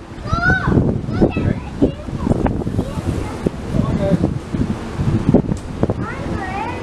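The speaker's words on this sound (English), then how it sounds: "It's beautifully windy." Wind blows across an open outdoor overlook at Disney's Animal Kingdom Lodge resort, gusting and buffeting the microphone with a fluctuating rumble while people talk nearby and birds call faintly in the background.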